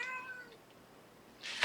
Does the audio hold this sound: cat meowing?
yes